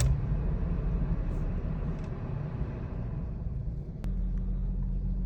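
A 2017 Toyota Fortuner with a 4x4 transfer fault idles after starting, giving a steady low engine rumble with a constant hum, close by and unbroken throughout.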